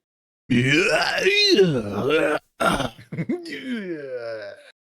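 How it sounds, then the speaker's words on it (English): A loud, drawn-out throat clearing with a groaning rasp, followed by a shorter guttural clearing and a trailing grunt, close to the listener. "I clear my throat."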